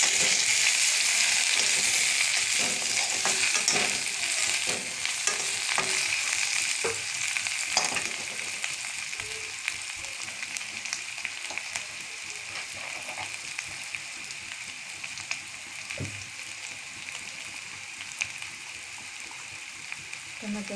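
Dried mango leather (aamsotto and aamsi) fries lightly in hot oil in a pan, with a steady, bright sizzle and occasional stirring scrapes throughout.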